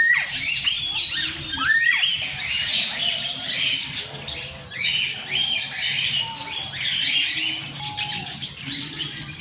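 A flock of birds squawking and chirping at a bird sanctuary in Bournemouth, with continuous overlapping shrill calls and a few louder near squawks, with no talking.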